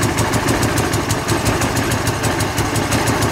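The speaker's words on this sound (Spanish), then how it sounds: "Como ven, arranca chido, pero oígala cómo está fallando." A motorcycle engine idles close by with a rough, pulsing chug, its rhythm slightly uneven as though it is misfiring.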